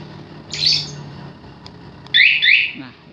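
Motorcycle alarm set off by a cloned RF remote signal built on an ESP32 with a CC1101 module: two bursts of shrill, chirping electronic tones, one short and a louder two-part one, alone with no talk.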